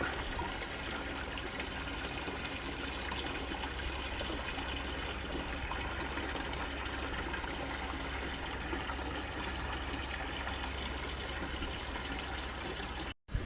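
Water pours steadily into a koi breeding tank, a constant rushing and splashing that continues unbroken until it cuts off abruptly at the end.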